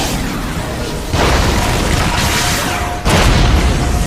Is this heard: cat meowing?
no